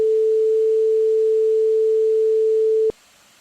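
Synthesized 440 Hz sine wave tone, a pure, steady, loud single pitch held for about three seconds before stopping abruptly into near silence.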